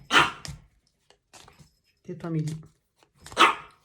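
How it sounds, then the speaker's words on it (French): A small female dog barks in short sharp bursts, loud and close, with a voice speaking between the barks. "vous entendez ma petite chienne Milly qui fait un petit peu la folle"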